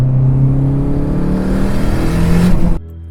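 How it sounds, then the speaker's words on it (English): A big-turbo Dodge SRT-4 pulls hard in second gear, its engine loud and close, rising steadily in pitch for almost three seconds before cutting off abruptly. "we're gonna do another second gear pull here"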